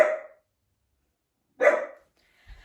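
A dog barks at a window cleaner working across the road, two loud, close barks separated by a second of silence, with a faint low thump at the end; no talking.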